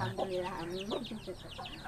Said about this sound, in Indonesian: iya ayam kagungan Bu